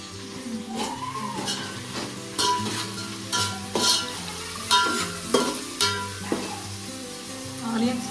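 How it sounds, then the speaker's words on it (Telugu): Onions fry in a pan for a chicken dish, hissing under repeated scraping stirs and sharp clinks of a utensil against the pan, close and fairly loud, in uneven bursts with no talking. "ఆనియన్స్ ఫ్రై చేసుకుంటాం."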